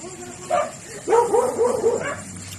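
A dog outside at night barks in a quick series of yips and bow-wows, moderately loud, with a faint hum underneath, heard from a tent.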